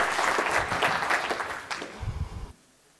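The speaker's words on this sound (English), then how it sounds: "A round of applause." A conference audience applauds at the end of a talk in a dense burst of clapping that lasts about two and a half seconds, then stops abruptly.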